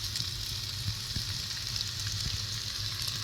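Chopped tomato drops into a pan of frying chilli, ginger and garlic for a dried stingray fish curry, giving a steady, close hiss of sizzling oil with a few soft stirring knocks and no talking.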